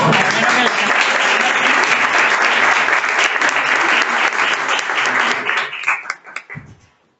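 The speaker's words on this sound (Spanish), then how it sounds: "Un aplauso" Sustained audience applause at a webinar event, loud and dense for about six seconds before tapering into a few scattered claps and fading out.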